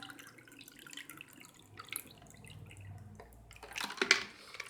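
Cold water from the fridge is poured into a container for making homemade butter, giving a soft trickle that grows into a louder splashing pour near the end.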